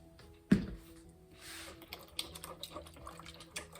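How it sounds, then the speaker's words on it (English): Sourdough starter being stirred into water in a bowl, a sharp splashing knock at the start followed by soft liquid clicks and sloshes, close and fairly quiet. "I'll stir it up a bit"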